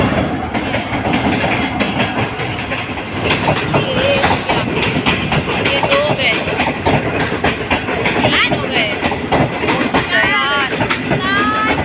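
A train pulls into a busy Indian railway station platform with steady rumbling and clickety-clack wheel noise, brief squeals, and crowd chatter and voices around it throughout.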